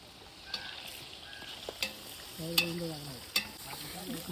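Chicken 65 frying in a pan at an outdoor farm party, a soft sizzle with scattered sharp clicks of stirring and a brief faint tonal sound in the background.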